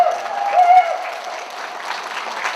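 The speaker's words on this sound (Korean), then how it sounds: "이 박수를 몰아서 김희강 청장님도 서구청에 작품 좀 사시라고 박수 한 번 주세요" An audience at an art fair opening ceremony in Gwangju breaks into applause, a fairly close, moderately loud patter of clapping that starts under a lingering tonal note and continues evenly to the end.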